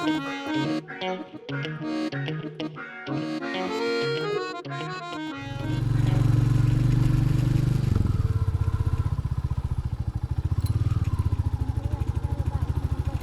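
A motorcycle cold-starts on a sunny morning in Nongjong: after a few seconds of other sound, the engine catches and settles into a loud, close, steady, pulsing idle that runs to the end.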